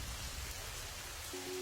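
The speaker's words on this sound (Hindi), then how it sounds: "बहुत तेज बारिश हो रही है" Heavy rain pours steadily as a dense, even wash of noise close by, with a faint low tone entering near the end.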